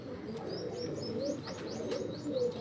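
Pigeons coo softly nearby while a repeated series of thin, rising chirps cuts above them, over faint background hum.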